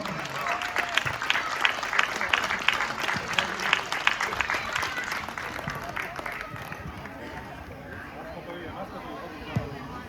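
Audience applause at a youth football tournament awards ceremony, dense clapping with distinct individual claps over crowd murmur, gradually thinning out toward the end.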